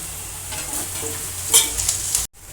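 Prawn curry masala with turmeric being stirred in a pan, a steady soft sizzle with scraping strokes of the spoon, one louder scrape partway through, then a brief gap before the frying resumes.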